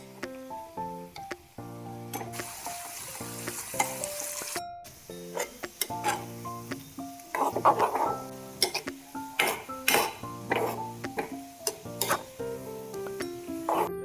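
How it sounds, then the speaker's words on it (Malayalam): Cut ginger fries in hot oil in a pan for a Kerala-style curry, with a bright sizzle in one stretch and scattered stirring clinks, all beneath steady background music. "കട്ട് ചെയ്ത് വെച്ചിരിക്കുന്ന ഇഞ്ചി അതിലോട്ടിട്ട് നന്നായിട്ട് ഫ്രൈ ചെയ്തെടുക്കാം"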